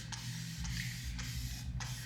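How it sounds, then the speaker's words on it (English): Four quick pumps of a spray bottle misting water onto curly hair, each a short sharp hiss spaced about half a second apart, close and fairly quiet over a low steady background hum. "So I'm gonna just spray some water."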